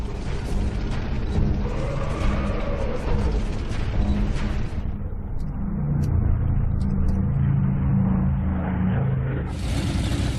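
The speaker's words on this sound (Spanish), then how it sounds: "Los carros alemanes ponen rumbo a Stalingrado." German tanks of the Second World War advance toward Stalingrad, a steady heavy engine rumble with grinding mechanical texture. The sound holds loud and continuous throughout, with no voices over it.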